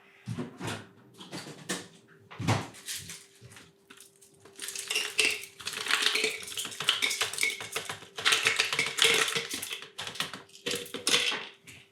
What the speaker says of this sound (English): I'm going to add ice to this and we're going to stir it down